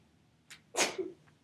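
A single sneeze with a short sharp intake before it, close by in an otherwise quiet room during a meditation class.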